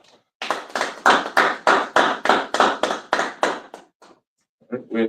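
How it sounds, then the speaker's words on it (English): About a dozen sharp hand claps in a quick, steady rhythm, close and loud, followed by a pause and a brief sound at the end. "Go ahead and clap it up"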